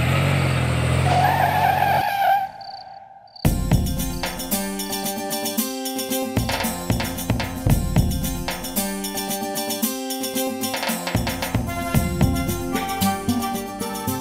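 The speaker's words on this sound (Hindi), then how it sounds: "वैसे ब्रेक्स काफी अच्छे हैं तुम्हारी गाड़ी के रमेश" A cartoon car brakes hard with a loud tire screech lasting about two seconds, which cuts off before lively music takes over.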